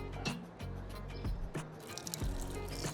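Water spouting from a kangaroo drinking fountain in Australia, splashing and dripping in repeated squishy spurts close by with steady wet trickling between them.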